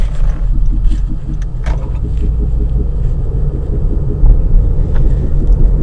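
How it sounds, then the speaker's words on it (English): A 2015 Honda Civic sedan rolls along a bumpy road at about 34 mph, its cabin full of low, steady road rumble with small rattles and knocks from the uneven surface, and no one speaks. "Right now the car is driving 34 mph."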